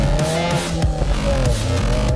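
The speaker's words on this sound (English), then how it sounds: "Right now we're going down this dirt road that has tons of undulation." A 2022 Subaru WRX driven fast down an undulating dirt road: a steady engine drone with gravel and tyre noise rumbling beneath, a few brief thumps from bumps, close and continuous with no talk.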